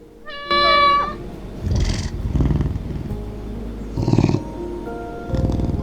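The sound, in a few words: cat purring in video game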